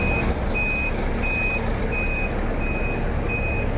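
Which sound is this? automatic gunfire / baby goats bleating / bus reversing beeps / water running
bus reversing beeps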